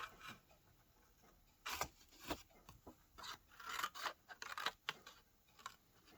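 Scissors snipping through material during a crafting session, a few quiet, uneven cuts and rasps, close and faint with no talk.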